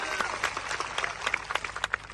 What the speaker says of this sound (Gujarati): એમના માટે જોરદાર તાળીઓ પાડી લો.